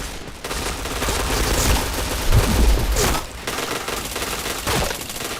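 Bursts of rapid automatic gunfire from the video game PointBlank crackle densely and loudly, with short pauses between volleys and a few heavier thumps.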